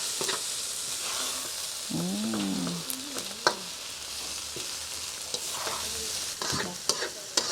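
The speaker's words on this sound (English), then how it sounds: "Stirring it." Food being stirred in a hot pan, with a continuous sizzle, scraping strokes, a few sharp clinks and a brief squeaky sound partway through.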